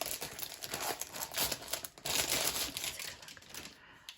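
Packaging being opened on an Erin Condren compact planner folio: quiet, close crinkling and rustling of wrapping in uneven bursts, with brief tearing-like scratches.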